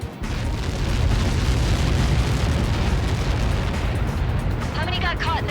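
A massive missile impact explosion from Helios projectiles in the combat flight game Ace Combat 7 roars as a loud, sustained, rumbling blast that fills the whole stretch without letting up, with faint tonal sounds appearing near the end.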